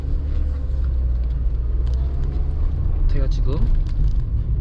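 A Mercedes-Benz A-Class on a test drive gives a steady low interior rumble of engine and road noise, with someone talking over it throughout.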